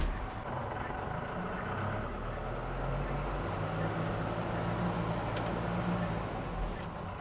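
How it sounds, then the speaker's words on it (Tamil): A Tata Marcopolo Maxicab 12+1 seater van idles steadily after starting and then gets under way, a continuous low engine rumble heard close with light mechanical noise. "இப்போ வண்டியை வந்து நம்ம ஸ்டார்ட் பண்ணி கொஞ்சம் தூரம் அப்படியே உள்ளே ஓட்டி பார்ப்போம்"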